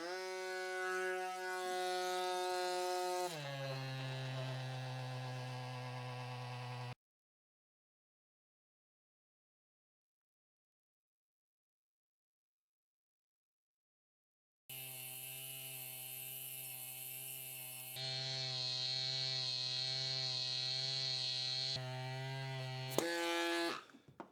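Electric pump inflating a TPU gravel bicycle inner tube, a loud steady mechanical whine with strong harmonics that drops in pitch, stops for several seconds, then resumes and strains higher, with no talking.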